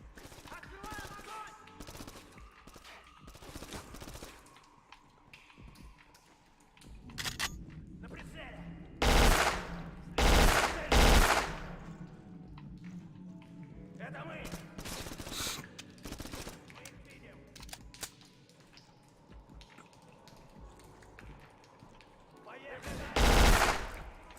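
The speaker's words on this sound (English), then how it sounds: "As I shoot this dude in the face." Video game gunfire as a player shoots an enemy: loud bursts of automatic fire and single shots, spread through the stretch with several heavy blasts and a final loud burst near the end, against a busy game soundscape.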